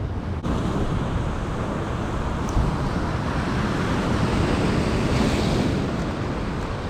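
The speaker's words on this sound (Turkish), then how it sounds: "Asıl istediğim dalga köpük bu." Sea waves crash and churn into white foam along the shore during a sea bass fishing outing, a steady broadband roar with wind buffeting the microphone and one brief surge in the middle.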